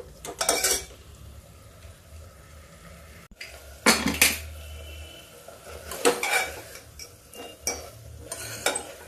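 A spoon scrapes and clanks against a pan while a peas and tomato curry with potatoes is stirred and roasted in half a spoon of oil. Several irregular bursts of metallic scraping come close and clear over a faint background sizzle.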